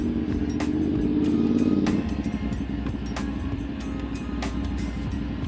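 Road traffic with cars and motorcycles makes a steady engine drone, swelling as a vehicle passes near in the first two seconds, then settling into a constant rumble.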